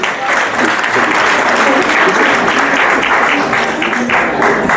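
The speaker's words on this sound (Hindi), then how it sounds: "जोरदार तालियां हम सभी की होनी चाहिए" Sustained, loud applause from a seminar audience at a women's empowerment event, dense steady clapping filling the whole stretch with a faint murmur of voices underneath.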